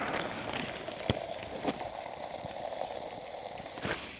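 Cheese omelet sizzling in a hot pan at a motorcycle campsite in the Pacific Northwest, a steady crackling fry close up with occasional sharper pops and taps.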